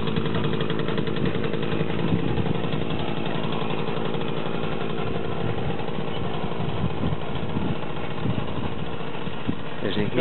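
A Romet Pony moped engine runs steadily in first gear, a buzzing, slightly rough two-stroke drone that holds at a constant nearby level for the full ten seconds.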